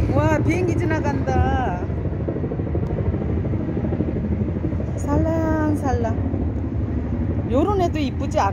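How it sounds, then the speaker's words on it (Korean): A low, steady roar of an airplane passing overhead outdoors at a flower nursery in Daegu, a broad rumble sustained throughout beneath people chatting nearby. "와, 비행기 지나간다"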